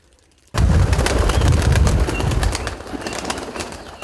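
A sudden burst of flapping and fluttering wings from a flock of village pigeons in Kolochava, Ukraine, loud and close, then slowly settling.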